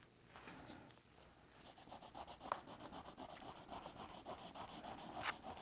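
Steady hand rubbing and pushing against paper artwork, a soft continuous scratchy friction with a repeating stroke rhythm and a couple of sharper scrapes, close up and alone.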